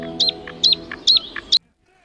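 Four short, bright bird chirps repeat at a steady pace over a low hum, then stop abruptly, leaving near silence.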